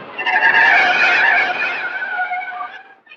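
A car's tires squeal loudly in a skid lasting about three seconds, strong at first and then tapering off as the car comes to a stop.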